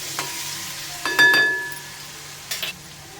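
Mustard seeds, cumin and chilli-garlic paste hitting hot oil in a pan over medium gas, a soft steady sizzle with a couple of brief louder crackling bursts and light stirring clinks.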